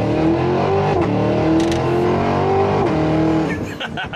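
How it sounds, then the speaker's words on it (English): A Cadillac Escalade-V launching with launch control on wet, snowy pavement: a loud, close engine roar climbs through gear shifts as all four wheels scramble for grip, easing off at the end. "That's launch control in the snowy wet."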